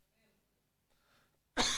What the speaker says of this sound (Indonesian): Karena dingin, saudaraku, jadi kudu batuk.